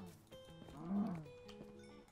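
A Minecraft cow gives a single low, short moo, faint and alone, during the game.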